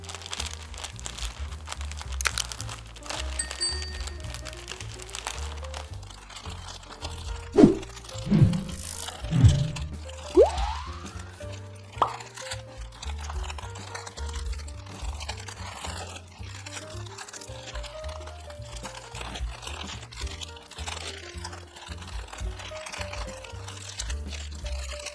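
Parchment paper is crimped and pressed around a fish packet for steaming, giving close, irregular crinkling and crunching bursts with short pauses, over quiet background music.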